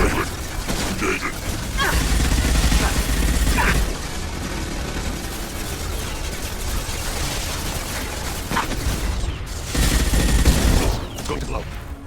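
Rapid mechanical gunfire and clanking during a fight with heavy mechs in Mass Effect 2, dense bursts over a steady clatter of combat noise, with voices talking throughout.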